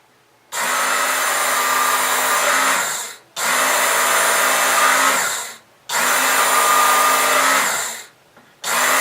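A Work Sharp knife and tool sharpener grinds a knife in three long, even passes of steady motor whine and abrasive hiss, each ending abruptly in a short silence.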